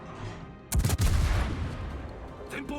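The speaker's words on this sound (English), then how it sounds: "I think we're firing 8 shells" Main guns of the Chikuma II warship firing shells in World of Warships, a sudden heavy booming salvo of close shots followed by a long rolling rumble that slowly fades.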